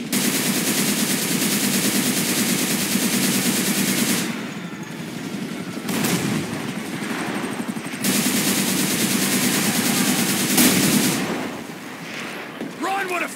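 Sustained, loud automatic gunfire from shooters in Grand Theft Auto V, in long rattling bursts with two brief lulls and echoing tails, with voices now and then over the shooting.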